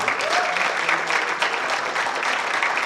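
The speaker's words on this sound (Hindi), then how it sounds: "तालियां बजाइए" An audience after a stage play claps steadily for the lighting designer, a dense continuous wash of applause throughout, close and fairly loud.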